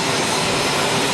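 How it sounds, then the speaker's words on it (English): A passenger airplane's engines roaring at an airport, a loud, steady broadband jet rush that fills the whole short moment without any voices. "So that's the plane we'll be taking to Charlotte."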